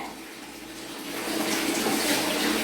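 Steady rushing water pours continuously while children are bathed, a loud, even splashing flow that grows slightly stronger partway through, with no voices.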